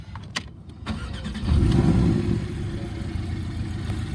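A 2017 Porsche 718 Cayman starts up nearby with a few clicks. The engine catches with a loud rising rev and then settles into a steady, throaty idle.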